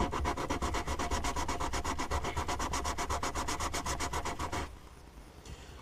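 A wooden boomerang is sanded with a sanding block in fast, regular back-and-forth strokes, a close rhythmic scratching that continues for several seconds before stopping, leaving faint rustling.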